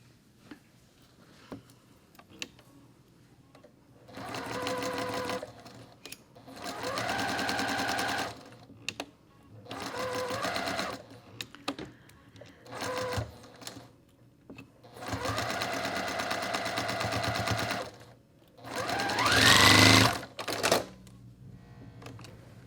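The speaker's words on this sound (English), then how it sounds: "we're going to sew down that seam." A sewing machine stitches down a fabric seam in several bursts of steady whirring, each run separated by short quiet pauses and small clicks.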